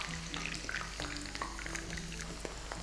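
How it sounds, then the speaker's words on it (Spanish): Cold potato pieces fry in hot oil in a pan, a steady close sizzle with scattered pops and crackles, no speech. "Ahí ahora mismo está friendo"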